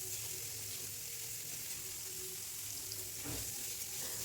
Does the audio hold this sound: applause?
no